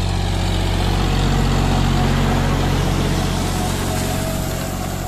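A four-wheel-drive John Deere 5105 tractor working a disc plough through red soil, its diesel engine a loud, steady throbbing drone close by with a dense mechanical roar.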